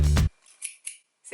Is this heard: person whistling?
no